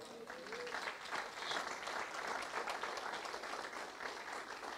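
Church congregation applauding during a sermon in Brasília, a steady wash of clapping from many hands with no one speaking over it.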